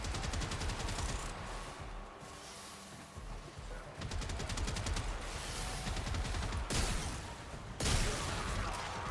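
Dense, loud bursts of rapid gunfire and explosions from a Warframe battle against Corpus enemies, rattling almost without pause for the whole stretch, with a few heavier blasts standing out near the end.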